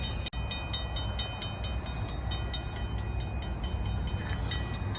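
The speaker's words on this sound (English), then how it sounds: "Seems to be a train coming," A train rumbles steadily toward a railroad crossing in Ontario, Canada, with a continuous low roll and repeated rhythmic clanking. A sharp knock lands near the start, and a faint high tone sits above the rumble throughout.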